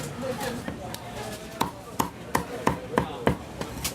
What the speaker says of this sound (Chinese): 还有这个剁鸡肉的声，拢毋捌停过。